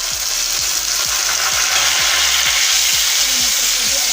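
Onions and tomatoes for egg chutney fry in a pan, giving a loud, dense sizzle with regular scraping knocks from stirring every half second or so.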